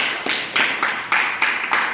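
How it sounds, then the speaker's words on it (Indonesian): Students in a school classroom clap together in a quick, steady rhythm, with several sharp group claps evenly spaced and fairly close. "Kita beri tepuk tangan untuk kelompok bertanggung jawab ya"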